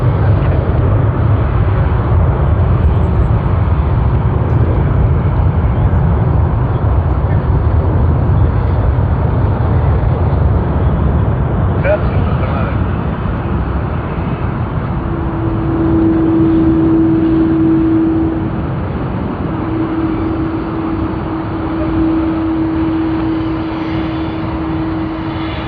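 A Qantas QF23 airliner on the Sydney to Bangkok service rumbles steadily at Sydney Airport, a loud, continuous low engine roar that holds throughout, with a faint tonal whine rising in its second half.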